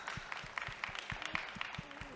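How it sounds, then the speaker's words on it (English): Faint, thin clapping from a small audience at a talk on intimacy coordination and safe film sets, with a few hands clapping in a steady, quick rhythm, distant and sparse, without speech. "You can clap for her"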